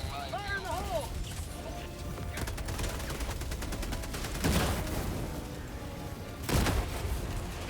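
Anti-tank gunfire in the Cursed to Golf video game rattles out as a dense, continuous barrage of rapid shots, with two heavier blasts punching through and a short whooping tone at the start.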